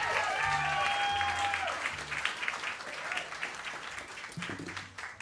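Applause from a cabaret audience at the Metropolitan Room, a steady wash of clapping with a sustained musical tone at the start, easing off toward the end.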